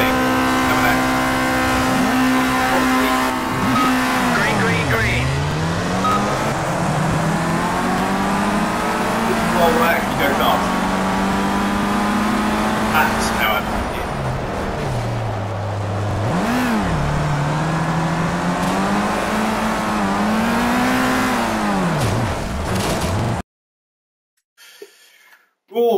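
Race car engine from the Project Cars video game in a Formula Rookie race in the wet, loud whining revs that climb through gears, dip sharply on downshifts and rise again, with someone talking over it before a sudden cut to silence.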